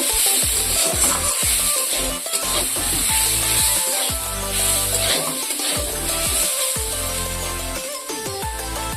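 Ginger paste and turmeric fry and sizzle in a pan while being stirred, with steady close hissing and intermittent scraping of the spoon, for a fish-head moong dal made with a katla fish head.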